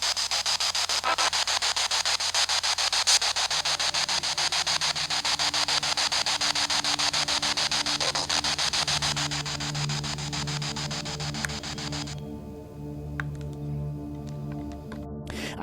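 SP7 spirit box static during a night in a haunted room at The Pied Bull in Chester: a steady, loud hiss over a low mains-like hum, with faint tonal drones rising in the second half and no voices.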